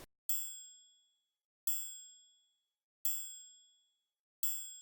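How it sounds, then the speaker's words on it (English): A bright, ringing bell tone from a beat-making session strikes four times at a steady pace, each hit crisp and decaying cleanly into silence. "the bell just ended up sounding like this"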